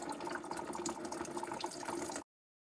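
Old coolant drains from a Kubota 108 tractor into a catch container as a steady, close stream of splashing liquid that runs for about two seconds, then cuts to silence.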